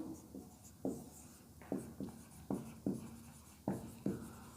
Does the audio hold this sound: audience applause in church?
no